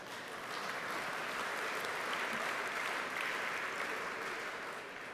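Speech audience claps steadily and evenly throughout, a dense wash of many hands filling the room at moderate distance, fading slightly at the end.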